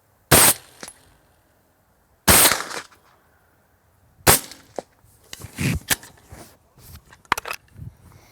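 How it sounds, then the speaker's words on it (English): Two loud suppressed subsonic gunshots through a CGS MOD-9 suppressor ring out about two seconds apart, then a third shot is followed by a flurry of clattering, cracking impacts and brief rustles. "Here we go with sub."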